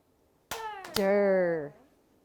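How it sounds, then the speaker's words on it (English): A few sharp hand claps beat out the two syllables of a word during a phonological awareness lesson, close and crisp, with a voice drawing out the word over them. "Let's clap elder."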